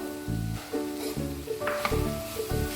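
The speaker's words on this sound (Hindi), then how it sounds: "इसको भी 1 मिनट के लिए हम सेकेंगे" Oats and vegetables roast in a pan with a soft steady sizzle, joined by low pulsing hum and a few brief scraping touches, close and moderately quiet.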